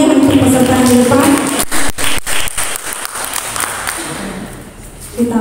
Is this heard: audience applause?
yes